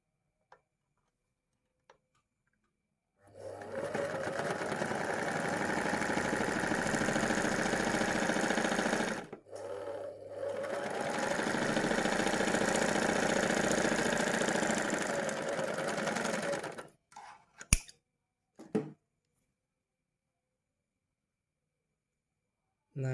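An overlock sewing machine, converted to stitch rolled hems, runs in two long, steady, fast-ticking bursts with a brief pause between them, followed by a few clicks and then quiet.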